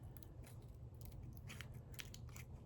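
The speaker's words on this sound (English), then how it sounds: "I like to use my little cuticle scissors here because they are pretty exact" Small cuticle scissors snip at something in quick, faint crisp clicks, a handful of close, quiet cuts over a soft background hum with no talk.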